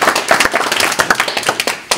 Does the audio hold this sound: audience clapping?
yes